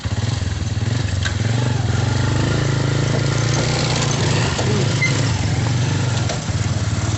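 A motorcycle engine runs steadily close by with a low, throbbing idle that holds through the whole stretch, joined by faint clattering above the engine's drone.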